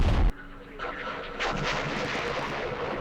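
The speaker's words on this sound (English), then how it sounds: "here comes the worst part. The French artillery." French artillery fire in the Vietnam war game Campaign Series Vietnam, at the siege of Dien Bien Phu: a heavy low boom opens, then a dense rumbling barrage of shell blasts rolls on without a break.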